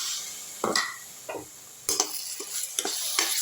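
A spatula scrapes and stirs mushroom pepper fry in a hot oiled pan with a soft sizzle, in irregular strokes close by.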